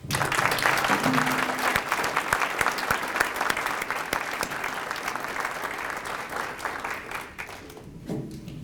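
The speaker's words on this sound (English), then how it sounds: "I would like to end with a large round of applause for our veterans in this city." An audience gives a long, loud round of applause for veterans at the Farmington Hills Stars & Stripes Forever event, dense clapping that tapers off near the end.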